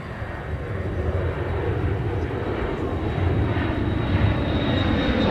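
Airliner going around at Minneapolis–St. Paul Airport, its engines a steady, loud broadband roar that holds throughout without breaks.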